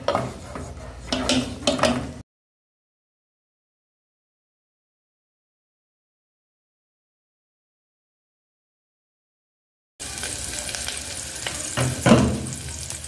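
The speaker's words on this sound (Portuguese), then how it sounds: "Eu gosto de mexer com a colher de pau" A wooden spoon stirs and scrapes sautéing rice in a hot pan, with steady sizzling. The sound comes in two loud, close stretches separated by a long gap of total silence.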